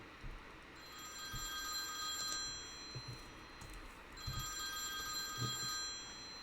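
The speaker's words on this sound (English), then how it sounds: "And there's the phone." A telephone bell rings in two bursts, with a pause between them, inside a horror video game. The ringing is fairly faint over a low background murmur with a few soft thumps.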